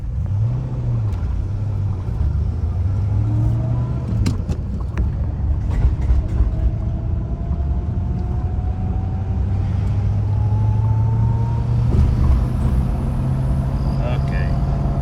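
A 1963 Chrysler Newport with a swapped-in 361 big block V8 and stick shift, heard from inside as a loud continuous low engine rumble with slowly rising engine tones, plus a few knocks and rattles.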